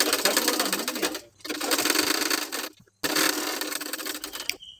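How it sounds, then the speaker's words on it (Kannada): A sewing machine stitches a folded hook strip on a princess-cut blouse in three quick bursts split by brief pauses, the mechanical rattle loud and close. "ಈಗ ಇದನ್ನು ನೀಟಾಗಿ ಫೋಲ್ಡ್ ಮಾಡಿಕೊಂಡು ಮೇಲೆ ಒಂದು ಸ್ಟಿಚ್ ಮಾಡ್ಕೊಳ್ಬೇಕು"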